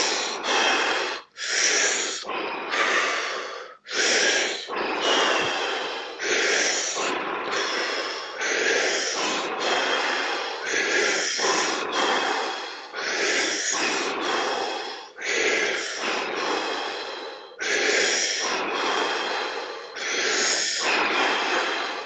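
Deep, forceful breaths in and out repeat in a steady rhythm during a guided breathing exercise, loud and close, each rush of air followed by a brief pause, with no talking.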